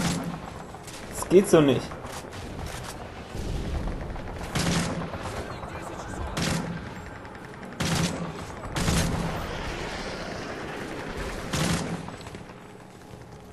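Mounted-gun gunfire from the Call of Duty Modern Warfare 3 battle scene, several loud bursts and booms recurring every second or two amid a busy game soundscape, with someone talking over parts of it.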